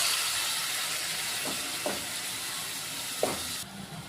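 Oil in a pan hisses steadily as hing, turmeric, capsicum and chillies fry, with a few soft knocks and the sizzle ending abruptly near the close.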